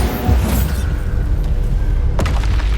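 Bombarda blasting spell cast in Hogwarts Legacy: a loud, deep booming burst with a heavy low rumble, followed by a second sharp crack and impact near the end, up close with no talking.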